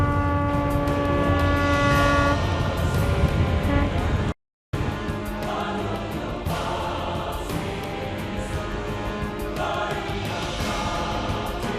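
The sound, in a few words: boat horns sounding a farewell at departure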